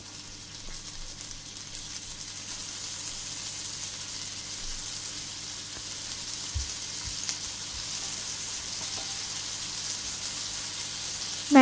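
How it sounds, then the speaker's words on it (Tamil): Paneer tikka pieces fry in oil on a flat tawa, giving a steady, soft, even sizzle and hiss throughout with a few faint knocks and no talking. "இப்போ ஒரு டவாவில் எண்ணெய் ஊற்றி வச்சுருக்கேன். அதில் வந்து இந்த மாதிரி எல்லா டிக்காவையும் வந்து வச்சிடலாம்."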